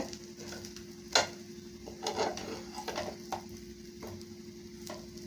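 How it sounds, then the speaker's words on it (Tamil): Plantain slices being flipped one by one on a hot tawa pan: a steady, soft sizzle of frying with scattered sharp spatula taps and scrapes, one louder click early on, close by. "இப்போ ஒன்று ஒன்றா அப்படியே திருப்பி போட்டுக்கலாங்க"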